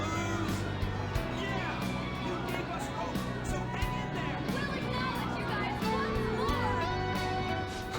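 Crowd of voices cheering in the video game Persona 5 Royal, a continuous dense babble of many people shouting at steady loudness throughout.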